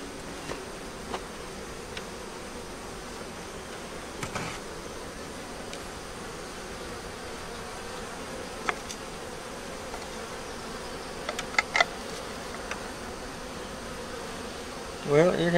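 Honeybees hum steadily around an open hive during an inspection, a continuous insect drone with a few sharper bumps and knocks, quiet and close throughout.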